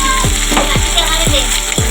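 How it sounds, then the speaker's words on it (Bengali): Onions frying in hot oil, added after dried red chillies and cumin seeds, give a close, loud, continuous sizzle, accompanied by a steady hum and repeating swooping tones about every half second. "পেঁয়াজটা লাল ভাজা হচ্ছে"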